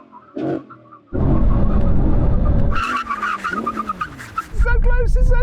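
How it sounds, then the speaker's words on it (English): A BMW M3 and an Audi R8 GT brake hard in a brake test, tyres skidding and squealing loudly and close for several seconds after a short quiet lead-in, with excited voices breaking in near the end. "first, brake test"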